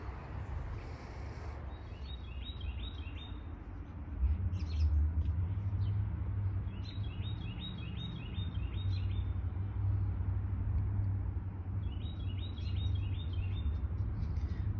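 A bird in a tree repeats a quick chirping phrase three times at regular intervals, somewhat distant, over a steady low rumble of outdoor background noise.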